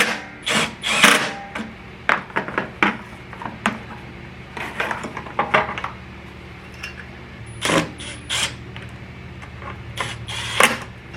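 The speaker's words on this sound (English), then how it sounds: "Back to my trusty flip socket." A flip socket wrench works on a Toro mower, giving close, irregular bursts of metallic ratcheting clicks and clanks separated by short pauses over several seconds, with no talk.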